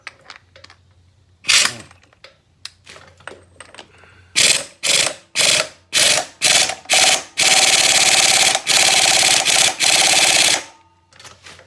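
A ratchet clicks in bursts while tightening a bolt on the shifter arm of a 1990 Harley Electra Glide Evo, starting sparse and becoming rapid, loud repeated strokes close by.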